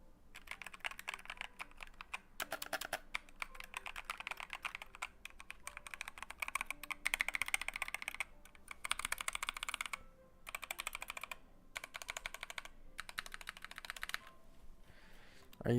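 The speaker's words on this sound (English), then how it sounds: "Can you give me some keyboard ASMR to put me to sleep?" Computer keyboard typing in bursts of rapid, close key clicks separated by brief pauses, steady and crisp throughout, with no speech over it.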